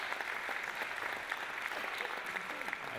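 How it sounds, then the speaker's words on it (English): Keynote audience gives a round of applause, dense continuous clapping that stays even and fairly loud for the full three seconds. "Let's give a round of applause for Professor Sonja West and Mickey Osterreicher here."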